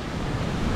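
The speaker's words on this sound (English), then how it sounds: "Tadlo waterfall" Tadlo waterfall in Laos roars as a steady, dense wash of falling water, loud and close, with no voices.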